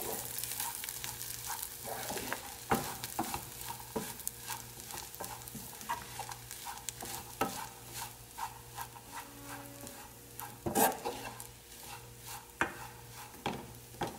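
Ground meat stirred and scraped in a hot frying pan for farofa, steady sizzling throughout with repeated close scraping and clacking strokes, no talking.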